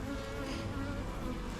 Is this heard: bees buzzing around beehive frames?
yes